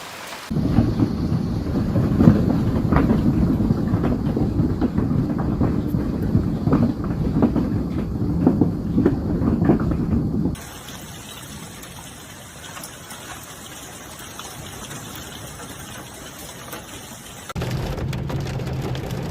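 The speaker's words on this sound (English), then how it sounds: "A powerful thunderstorm" A powerful thunderstorm with heavy rain roars loudly and steadily for about ten seconds. A quieter stretch of rainy ambience follows, then the loud storm returns briefly, with no speech.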